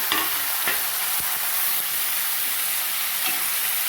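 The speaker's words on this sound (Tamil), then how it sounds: "பச்சை வாசனை போகிற வரைக்கும் நல்லா வதக்கிடுங்க." Sliced radish sizzles and hisses steadily as it is stir-fried in a pan, with occasional scraping stir strokes over the continuous close frying noise.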